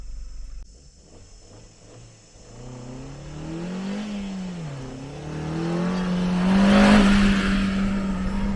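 A car engine held in second gear revs steadily while climbing sand dunes, its loud drone rising and dipping in pitch and swelling toward the end, with no talk over it.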